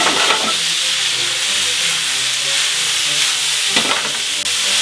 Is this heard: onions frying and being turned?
yes